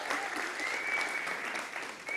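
Audience applause at a faith celebration gathering, a brief, steady burst of many hands clapping that holds evenly for about two seconds before tapering slightly.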